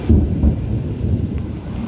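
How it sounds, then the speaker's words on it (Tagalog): Thunder from a suddenly darkening sky rumbles loud and close, a deep continuous roll with no talking over it. "Naririnig niyo yung kulog,"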